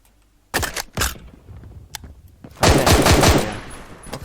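Gunfire in the video game Phantom Forces: a few loud single shots spaced apart, then a quick rapid-fire burst of several rounds that trails off into a ringing echo, with no voices.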